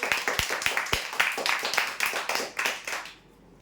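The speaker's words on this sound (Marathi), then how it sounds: "जोरदार टाळ्या" At a prize draw, a small group claps briskly for a few seconds for a winner, the applause sharp and close, then quickly dies away into quiet.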